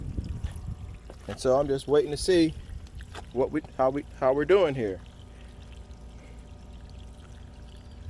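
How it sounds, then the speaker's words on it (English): Water from a hose is poured onto a patio deck and runs down the steps, a soft continuous trickle beneath someone talking nearby. "I'm throwing some water up here on the deck, and to simulate that water that was coming off the steps."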